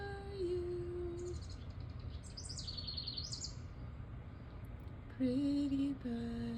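A bird at a feeding station gives clear whistled notes and short bright chirps, spaced out over a quiet outdoor background at moderate distance.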